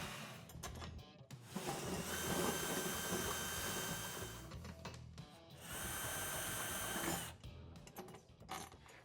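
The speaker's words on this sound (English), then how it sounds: "we're just going to drill through the bracket for the rest of the mounting locations" A power drill bores through a metal Tusk pannier rack bracket in two sustained loud bursts, a whining grind that rises and stops, with shorter rattling clicks and handling noise between them, no voices.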